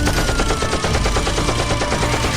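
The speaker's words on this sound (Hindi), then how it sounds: "एल्फ्रेड उस मॉन्स्टर ट्रक के पीछे माउंटेड मशीन गन के अंदर बैठता है और फिर उन पार्टी एनिमल्स के ऊपर गोलियां बरसाने लगता है" Machine gun fire from a gun mounted on the back of a monster truck, used as a comic-narration effect: a dense, loud, rapid rattle of shots running without pause for a couple of seconds, with no voices over it.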